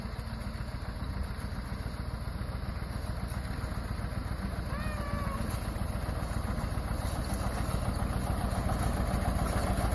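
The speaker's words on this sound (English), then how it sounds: "out on the old John Deere 2-cylinder tractor" A steady, loud John Deere 730 two-cylinder diesel tractor engine idles with a rapid low chugging rhythm throughout, close by, with brief faint chirping sounds partway through.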